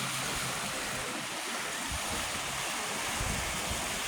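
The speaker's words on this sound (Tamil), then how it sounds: "தண்ணி நிறையா வருதில்ல" Water rushes steadily in plenty, a broad continuous roar of flow that stays loud and even throughout with no voices.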